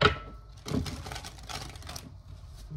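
Several quick riffling bursts of tarot cards being shuffled, with crisp papery flutters separated by brief pauses, close by.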